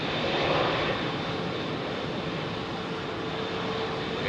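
Jet airliner bound for New York, fitted with General Electric GE90 engines, departing London Heathrow runway 27R: a loud, steady, broadband engine roar heard close up throughout, swelling slightly early on, with no voices.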